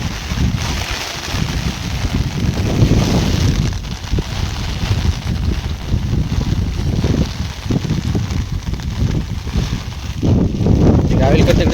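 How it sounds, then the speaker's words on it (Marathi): Strong wind buffeting the microphone out in open farm fields, a loud low rumbling roar that gusts on and off throughout, with people talking under it. "आवाज येत असेल वाऱ्याचा जबरदस्त"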